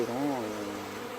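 A dense, droning buzz of many bees fills the air, steady and close, with the pitch wavering slightly.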